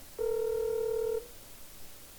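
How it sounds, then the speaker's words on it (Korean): A phone call ringing out unanswered: one steady electronic ringback tone lasting about a second, fairly loud and clean, then fading into quiet room hiss. "정 배우님 입장을 들어보려고 전화를 계속 하는데 안 받으시더라고요"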